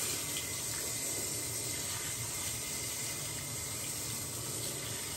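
Hot water runs steadily from a tap onto a washcloth in a sink, a continuous close rushing splash that holds even for about five seconds with no talking.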